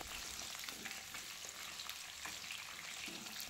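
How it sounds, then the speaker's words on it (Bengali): Pieces of pointed gourd (potol) fry in hot oil in a kadai over a high gas flame, a steady dense sizzle and crackle running unbroken throughout. "তেল যখন গরম হবে কেটে রাখা পটলগুলো দিয়ে পটলগুলোকে হালকা লাল করে ভেজে নেব"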